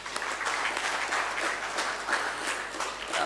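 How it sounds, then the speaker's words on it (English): Round of applause at a rural youth agribusiness employment meeting: a steady wash of many hands clapping, even in level and moderately distant, with no break. "Please, a round of applause."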